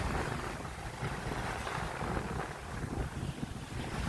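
Strong wind on the coast in Bicol, Philippines, roaring and buffeting the microphone continuously, with a hint of rough surf beneath, no voices.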